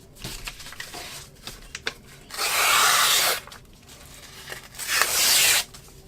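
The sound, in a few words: ripping pages out of old books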